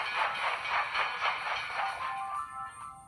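A train in the mobile game Township chugs with a rhythmic pulsing whoosh and steady hiss, the regular beats thinning out as it pulls away near the end.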